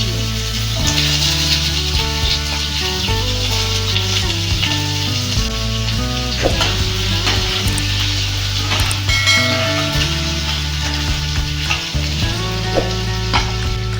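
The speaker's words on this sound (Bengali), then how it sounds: "ভেজে নিতে হবে দেখুন আলুগুলোকে আমি লম্বা লম্বা করে কেটে নিয়েছি" Long strips of potato fry in hot oil with a loud, continuous sizzle and crackle, close and steady throughout, with faint metallic clinks but no talking.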